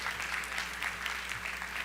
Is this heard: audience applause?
yes